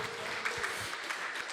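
A church congregation claps in praise during a service, a faint, distant patter of many hands with a few sharper claps standing out, continuous but soft.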